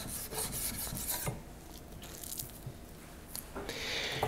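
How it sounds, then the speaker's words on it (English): A knife slices fillets from a whole 11 lb salmon, giving soft, faint scraping and rasping strokes that come in repeated passes at close range. "when you work your way down to the tail, since the salmon is starting to get thinner, you want to make the cuts a little bigger,"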